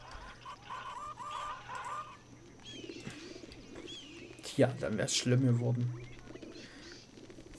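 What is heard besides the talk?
pigeons cooing in Zoo Tycoon 2 video game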